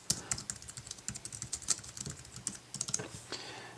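Quiet, rapid keystrokes clatter on an Apple iPad Keyboard Dock paired with an iPod Touch 4G, arriving as an uneven stream of light taps with no voice.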